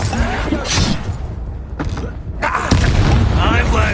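A booming explosion from the Confringo spell in a Harry Potter video game, with a heavy thud and crackling debris amid noisy game action, loud and close.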